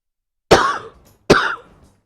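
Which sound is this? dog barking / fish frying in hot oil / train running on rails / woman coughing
woman coughing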